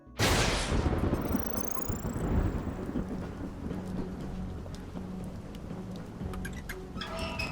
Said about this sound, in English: Oh, and there was a storm.